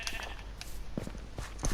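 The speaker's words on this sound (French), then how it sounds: "Et on va aller aussi prendre ce mouton du coup." A sheep bleats faintly in the blocky survival game Minecraft, short quiet calls mixed with soft game sounds and small clicks, with no talking.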